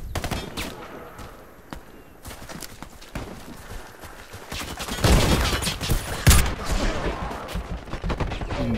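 Rapid light machine gun bursts in the shooter game Warface: Breakout, loud and close, starting with sparse shots and swelling into heavy continuous automatic fire with dense overlapping reports.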